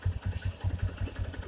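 A 2016 Honda Hornet 160R BS4 motorcycle idles steadily near 1000 rpm after a carburetor adjustment, giving a low, even thumping pulse at a quick regular rhythm. Heard close and moderately loud, with no talking.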